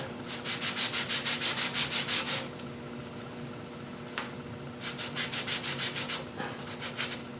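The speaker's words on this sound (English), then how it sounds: "There's a decent sized burr on this front edge, and I got to sand it off" Small wooden pieces are sanded by hand to take a burr off their front edge, making two bursts of quick, rhythmic rasping strokes close by with a short pause between them.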